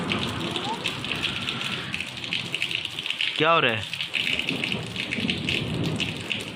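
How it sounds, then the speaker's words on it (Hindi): Heavy rain pours down in a dense, constant roar while a person speaks briefly over it, close by. "देखो इतनी ज़्यादा बारिश हो रही है"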